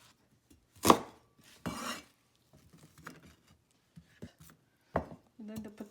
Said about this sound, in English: This is onion. I'm just cut it into a square.